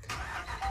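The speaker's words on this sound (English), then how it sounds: "we'll jump in here and start this truck up and show you around" A Laramie pickup truck's engine catches in a brief, close burst as it starts, the cranking turning into a running rumble within a fraction of a second.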